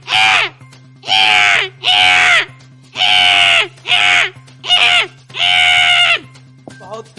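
A man imitates a crow's call with his voice. He gives a string of loud, harsh caws, about seven separate bursts with short pauses between them, close to the mic over a low steady hum.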